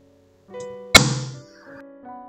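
A Chandon Extra Brut sparkling wine cork bursts out with one sharp, loud pop that decays with a fizzy hiss, over quiet room ambience.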